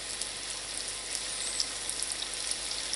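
Sausage pieces frying in a pan for a breakfast casserole give a steady, close crackling sizzle with dense spitting pops throughout and no talk.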